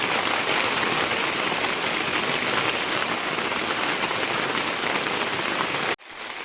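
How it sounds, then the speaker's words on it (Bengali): Heavy rain pouring down outdoors, a dense, loud, steady hiss of drops on surfaces that cuts off abruptly near the end. "তাহলে বৃষ্টি শুরু হয়ে গেছে, ভালোই বৃষ্টি পড়তেছে"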